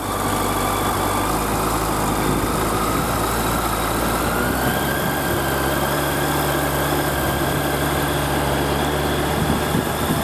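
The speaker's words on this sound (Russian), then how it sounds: "Сейчас прогреется, посмотрим, как он работает на холостых." A Suzuki GSF1200 Bandit motorcycle idles as it warms up from a cold start, a steady, even, close engine drone with no revving for the whole stretch.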